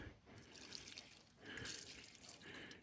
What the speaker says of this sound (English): I'm just gonna pour some fuel